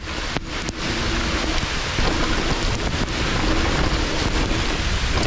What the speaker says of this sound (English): Listen closely to how much the rain picks up right here.